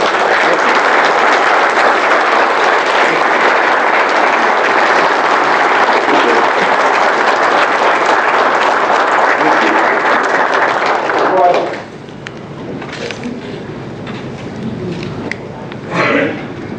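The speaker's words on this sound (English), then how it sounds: "A round of applause." Sustained, loud applause from an audience after a university talk on the Emmett Till case, steady clapping for about twelve seconds before it fades out, followed by quiet room sounds and a brief voice.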